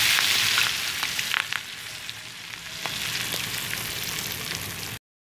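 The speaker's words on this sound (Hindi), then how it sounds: "चिकन मैरिनेट हो गया, फ्राई करती हूँ।" Marinated chicken pieces for chicken pakodi fry in hot oil, a steady close sizzle with scattered pops and crackles, fading slightly before cutting off, no talking.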